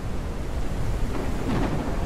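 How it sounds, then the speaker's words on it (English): Steady heavy rain in the video game Sunnyside, a dense continuous wash of noise with a low rumble beneath, loud and unbroken throughout. "It's raining like crazy."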